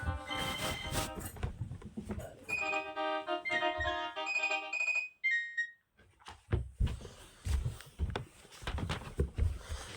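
A mobile phone ringtone plays a bright repeating electronic melody in the middle of a room where a voice talks before and after it. The ringing is fairly loud and stops abruptly.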